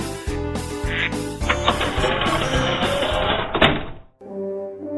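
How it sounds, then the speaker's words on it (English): Loud, repeated duck quacks in quick succession, close and clear, ending in a brief pause and one last softer quack. "We'll be right back after Bob gets the ducks out of his living room."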